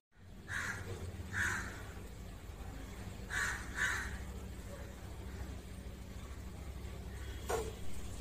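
Crows caw on a rooftop where water is set out for birds, several sharp calls in short clusters, some fairly close, over a steady low outdoor rumble.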